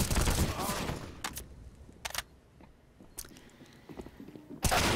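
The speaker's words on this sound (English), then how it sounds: "He's going to try and spam with the silencer, but not to be" Sparse suppressed gunshots in Counter-Strike on the Vertigo map during a professional match, sounding as a few short, sharp cracks spaced apart amid quiet, with a louder burst near the start and another at the end.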